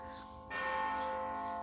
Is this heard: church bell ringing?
yes